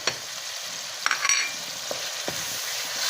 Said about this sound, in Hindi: और इसको हम अच्छे से भूनेंगे